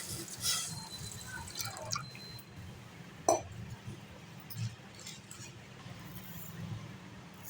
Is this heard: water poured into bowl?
yes